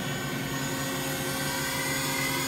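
Mazak AJV25404N vertical machining center spindle running up in speed, a steady, smooth whine with a broad hum filling the whole stretch, even and continuous with no talk over it.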